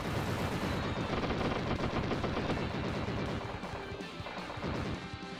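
Rapid, dense gunfire from the video game Wild Guns rattles continuously with overlapping shots and crashes, loud and steady throughout with no talking.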